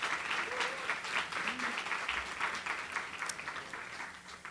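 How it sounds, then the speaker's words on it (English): An audience at a Juneteenth celebration at a community college claps for student submissions: fairly quiet, moderately dense applause from a room, slightly uneven, with faint murmuring underneath. "Let's give them all a round of applause."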